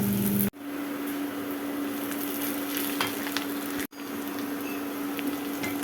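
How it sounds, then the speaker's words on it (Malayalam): Cabbage stir-fry sizzling loudly and steadily in a hot pan, a dense continuous frying hiss broken by two brief cuts, with no talking. "കാബേജ് മെഴുക്ക് വരട്ടി ആയിക്കൊണ്ടിരിക്കുക കേട്ടോ"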